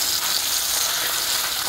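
Bitter gourd frying with small shrimp in oil, a dense, even hiss of sizzling that holds steady for under two seconds, close and moderately loud with no voices.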